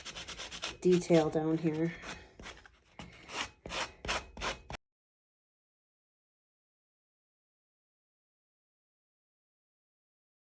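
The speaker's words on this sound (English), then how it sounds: "just going to take my sanding block. Yes. Oh, I love that. Sand it back a touch." A sanding block rubs over a painted wooden pedestal in a quick run of rhythmic scraping strokes, close and moderately loud, following a brief spoken phrase and ending in silence.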